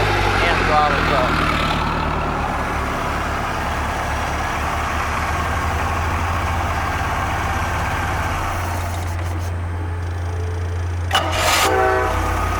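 A Mercruiser 140 hp boat engine on a Cheetah boat runs loud and steady with a deep low drone, its tone holding through most of the stretch before shifting near the end, while a person speaks over it.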